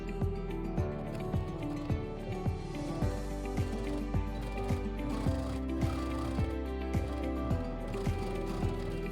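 Sewing machine stitching a fabric lining seam with a 1 cm allowance, a close, steady mechanical whir with regular rhythmic clicks from the needle and feed mechanism.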